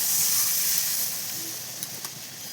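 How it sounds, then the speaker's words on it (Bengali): Water poured into a hot pan of pointed gourd and prawns sets off a loud, steady steaming hiss and sizzle that slowly eases, close up with no talking. "এবার ওর মধ্যে জল ঢেলে দিতে হবে।"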